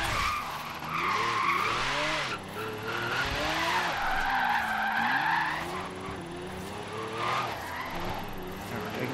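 A car in Forza Horizon 3 loses rear grip at a roundabout, its tires squealing in long wavering skids over a revving engine, loud and close, continuous for several seconds.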